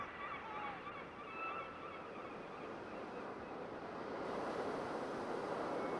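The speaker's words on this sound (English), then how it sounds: "At least you can hear the sound of the sea from here." Sea waves wash near the coast at Mangalore, Karnataka, a broad steady roar that swells slightly toward the end, with faint honking bird calls early on and no talking.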